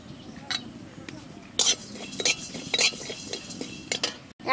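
Cumin and coriander fry in a pan for a Bengali mixed-vegetable labra. Short scrapes and clinks of stirring come in bursts over a low, steady sizzle.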